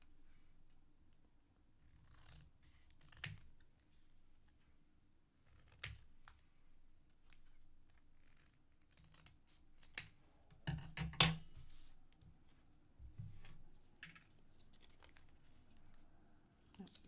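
Scissors cutting out a small paper bow for a boutique bow paper clip, quiet snips and paper rustles with scattered sharp clicks, close by amid faint room noise.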